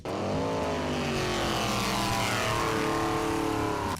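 A 1991-1993 GMC Cyclone pickup truck engine revs loudly and steadily for about four seconds, its rising and falling pitch sustained close by with no voices over it.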